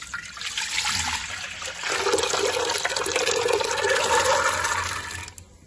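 Soaking water from chickpeas soaked overnight is poured into a pressure cooker in a steady splashing stream, growing louder and fuller partway through before stopping near the end.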